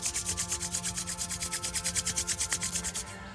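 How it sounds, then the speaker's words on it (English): Palms briskly rubbed together during a qigong warm-up, a steady close swishing friction with a quick even back-and-forth rhythm for about three seconds before easing off. "Rub your hands"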